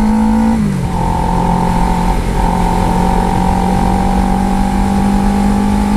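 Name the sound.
car driving off at night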